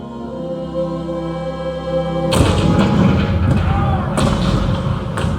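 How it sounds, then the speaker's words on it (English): Cannon fire in the Disneyland Great Moments with Mr. Lincoln show marking the 1861 attack on Fort Sumter: a sudden heavy boom breaks over a sustained musical tone, then more booming bursts roll on loudly over a rumbling bed. "The cannons spoke for war."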